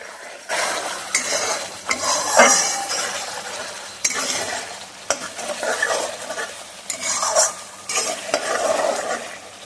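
Fried potatoes are stirred into a spiced Bengali aar fish curry in a pan, with a gentle sizzle under repeated scraping sweeps of a spoon and light clinks against the metal.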